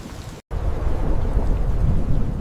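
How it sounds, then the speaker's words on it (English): A thunderstorm rumbles with heavy rain, a deep continuous low roar of thunder and rainfall that briefly cuts to silence before resuming loud and steady. "Storms raged across the heavens, testing the endurance of human ambition."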